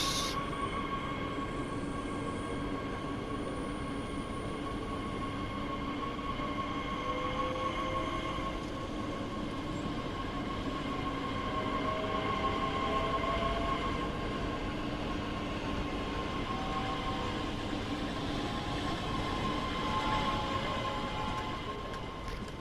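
Train passing by in Train Sim World 2, a long steady rumble of rolling stock with droning tonal hums and faint wheel squeals, loud and sustained throughout without speech.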